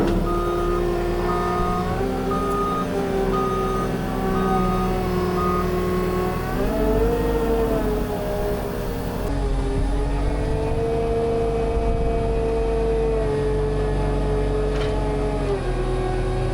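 A loaded 330 truck drives out of a junkyard with a steady, loud diesel engine drone and shifting pitch as it moves under load, continuous throughout.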